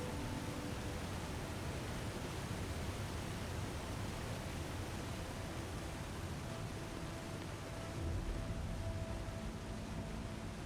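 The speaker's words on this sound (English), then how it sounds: "we'll get over here past this loud waterfall" Steady, loud roar of a waterfall in the game The Long Dark filling the whole recording, a broadband wash of rushing water with no voices.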